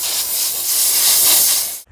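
Dry micro-steam cleaner jetting onto a car, a steady loud hiss of spraying vapour that runs alone for nearly two seconds and then cuts off abruptly.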